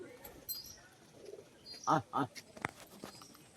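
Female white-eyed tumbler pigeon cooing in a few short, fairly loud bursts near the middle, over faint background chatter and ambient noise, with brief wing sounds as it performs.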